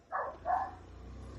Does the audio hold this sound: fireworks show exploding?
no